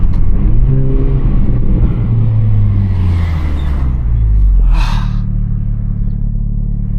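A 2024 Renault Megane RS 300 Trophy, 300 hp, driven hard in race mode: loud steady engine drone from inside the cabin with rising and falling revs, a brief breathy sound midway, no talk.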